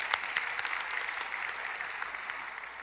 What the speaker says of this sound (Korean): 우리 하나님 앞에 영광의 박수를 드리겠습니다